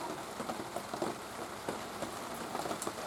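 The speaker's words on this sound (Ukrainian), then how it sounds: "Ось вже пішов дощ, бачите?" Dense, steady patter of rain drumming on a large umbrella overhead, with scattered louder drops throughout.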